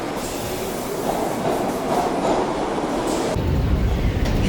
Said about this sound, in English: 42nd Street subway system is very busy, probably one of the more busy ones in the city